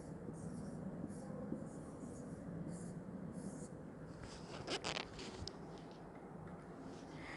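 A pen writes Hindi words during a grammar lesson for young children, with faint, scratchy strokes over a steady background hiss and a short burst of louder scraping near the end.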